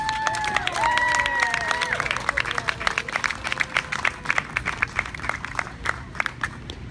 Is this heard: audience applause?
yes